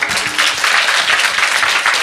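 A lecture audience claps loudly and steadily, a dense, close wash of applause that holds at full strength throughout.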